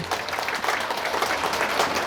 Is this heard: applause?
yes